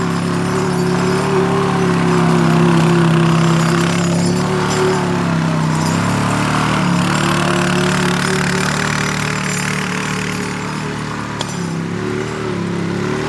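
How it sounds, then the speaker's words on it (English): Quad ATV engine running steadily as the vehicle slides across damp grass, a continuous mid-pitched motor drone with slight revving swells, fairly close and loud throughout. "I'm gonna put the quad on 2 wheels there"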